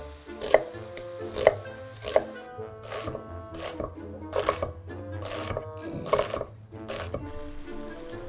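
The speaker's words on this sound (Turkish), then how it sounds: "Soğanımı doğrayacağım." A knife chops onion steadily on a cutting board, sharp regular strikes about once a second, with soft background music underneath.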